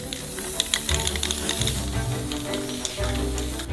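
A spray paint can hisses in steady bursts while coating a giant cardboard Nutella box in brown paint, with a low background hum beneath the spraying.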